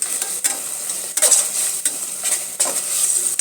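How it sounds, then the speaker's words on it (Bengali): Prawns frying in hot oil while being stirred for a Bengali prawn dish, a loud bright sizzle broken by repeated scraping strokes of a spatula against the pan, no talking. "এটার মধ্যে চিংড়িগুলো দিয়ে একটু কষিয়ে নেব"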